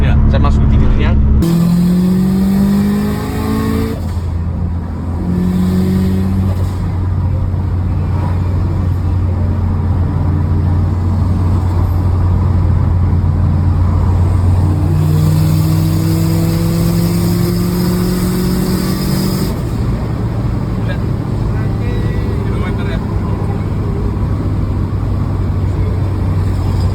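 Subaru GC8 two-door Type R engine revs up in repeated rising pulls, loud and close, dropping back to idle between runs over nearly half a minute.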